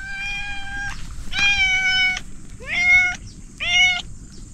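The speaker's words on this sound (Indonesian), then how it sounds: "Jinak pula kucing ni." A tame cat at a quiet village chalet meows four times in a row, close and clear, each call a drawn-out tonal cry with short pauses between, over faint background hiss.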